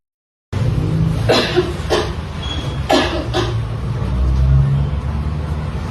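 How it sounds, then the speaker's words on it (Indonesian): After a moment of silence, a few harsh coughs break out, two near the start and two more a bit later, over a low traffic rumble. "Iya, ibu cuma batuk biasa saja"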